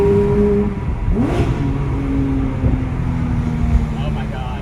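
Porsche 997.1 GT3 RS engine revving and accelerating from inside the car, a loud steady roar with rising and shifting tones, with a passenger briefly talking over it.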